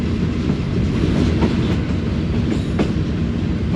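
The Pak Business Express, hauled by a Chinese locomotive, passes Lodhran junction with a continuous loud rumble and rhythmic clickety-clack of wheels over rail joints, heard up close from on board.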